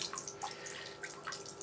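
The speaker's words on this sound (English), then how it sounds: "I'll drop it in the bucket of water, and I'll hold the stem and I'll just swish it around so that the old soil just comes off" Gardenia roots swished by hand through a bucket of water to rinse off old soil, giving soft close sloshing and dripping splashes in a steady, quiet churn with no talking.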